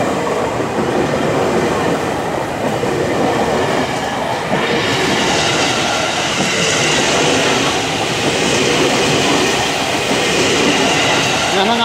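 A KRL commuter electric train passes close and loud, with a steady roar of wheels on the rails and faint squeal and clatter that last throughout.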